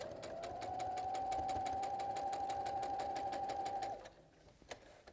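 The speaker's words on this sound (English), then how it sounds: "we're just going to sew straight across that opening" A sewing machine stitches straight across the opening of a trick-or-treat bag, running steadily with a rapid rhythmic whir for about four seconds, then stopping, followed by a few faint handling clicks.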